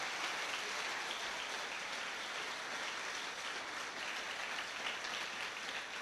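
A church congregation applauding God during a Portuguese-language sermon, a dense, steady wash of many hands clapping together, even and unbroken throughout.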